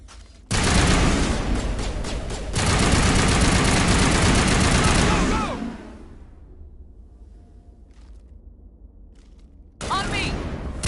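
Sustained automatic gunfire in the Mass Effect video game, loud dense bursts of rapid shots lasting several seconds, fading into a quieter lull before another burst erupts near the end.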